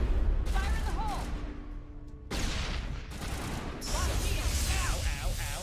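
Grenade blasts in the Mass Effect game, several loud explosive bursts and gunfire crashing through battle sound while people talk.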